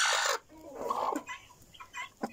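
Hens cluck nearby in short bursts, with a louder squawk at the start and softer clucks trailing off.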